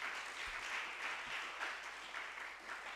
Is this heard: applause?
yes